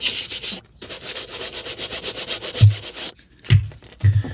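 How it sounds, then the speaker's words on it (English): Sandpaper rubs along the side of a hardback book in quick, close, rhythmic scratchy strokes, with brief pauses and a few soft thumps of the book being handled. "So I could put some sandpaper along that. We'll give it a rub just to see if that does do anything to it."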